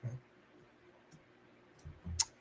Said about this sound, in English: There's a lot of clicking going on, man.